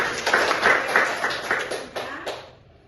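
A classroom of students claps together during a microteaching lesson on arithmetic sequences, a dense run of close hand claps lasting a couple of seconds before trailing off into quiet.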